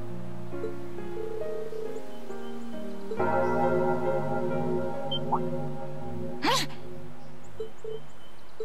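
A bell rings out from the old school building in the video game Trails of Cold Steel II, its long, sustained tones layered over steady background game music.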